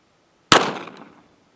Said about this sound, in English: Getting ready to shoot the Federal 50 grain hollow point 22 mag Federal game shock.